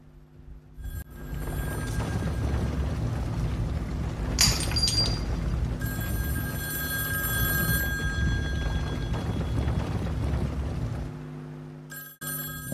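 A phone rings in a video game, loud and continuous, with a bright trilling ring layered over a dense, steady background for most of the stretch. Nobody speaks over it.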